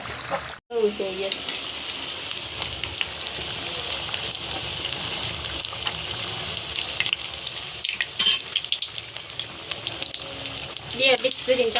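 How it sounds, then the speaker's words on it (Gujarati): Hot oil sizzles and crackles steadily as samosas deep-fry up close, with a short break early on and occasional louder spatters and stirring noises. "અહીંયા કરી દીધું છે તળવાનું શરૂ."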